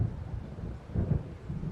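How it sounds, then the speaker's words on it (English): Deep rolling thunder rumbles continuously from an approaching storm in the video game Alan Wake, swelling and easing in low waves with a faint hiss of rain and wind beneath. "It seems there's a storm coming."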